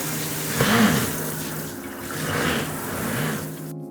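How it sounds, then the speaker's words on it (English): Running water from a kitchen sink faucet in spray mode, a steady hiss with a louder surge near the start, rising and falling in intensity before cutting off abruptly. "In our new sink, we have regular mode and have spray mode."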